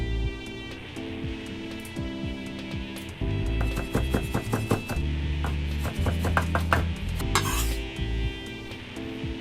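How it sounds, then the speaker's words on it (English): A knife chops tarragon leaves on a cutting board, with bursts of quick, rhythmic taps close up over steady tonal background music. "A teaspoon of tarragon leaves that'll also chop up."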